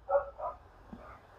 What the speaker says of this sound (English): I didn't even realize that the dogs are barking.